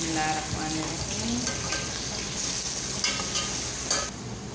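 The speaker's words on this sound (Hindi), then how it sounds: "मसाले हमारे देखें हो चुके हैं थोड़े फ्राई, तो अब हम प्याज शामिल करेंगे।" Onions go into spices already frying in a pan for chana pulao, giving a steady close sizzle with stirring and scraping throughout, the frying loudest at the start and easing slightly near the end.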